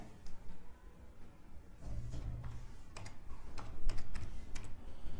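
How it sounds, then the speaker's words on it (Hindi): A computer keyboard being typed on quickly to enter a PAN number while logging in to the income tax portal: a steady run of close, crisp key clicks over a low background hum, with no talking. "तो हम फटाफट से यहां पर हम टाइप कर देते हैं"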